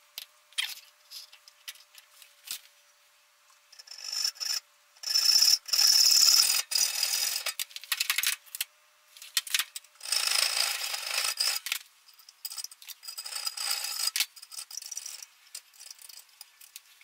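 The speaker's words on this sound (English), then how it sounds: "I'm gonna put a new hacksaw blade on there to get in there and just try to rub and rough them out a little bit better" A hacksaw blade rubs and roughs out a metal part while a bench-top welding table is built, giving short bursts of scraping, rasping strokes separated by brief pauses of near silence.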